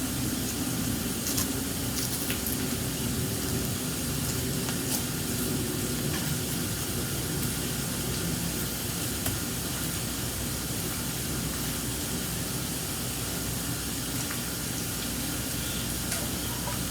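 Butter sizzling in a hot round pan while breakfast is cooked for dinner, a steady broadband hiss that holds at an even level throughout with no talking.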